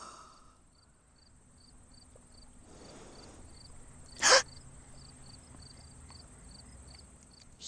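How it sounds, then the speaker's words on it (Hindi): Crickets chirp in a steady, rapid pulsing trill that runs the whole time over a quiet night background, with one brief loud burst of noise near the middle. "ये तो चींगर की आवाज है।"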